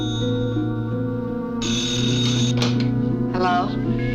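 A telephone rings in an electronic tone under music and other sounds, with a steady tonal ring that swells partway through.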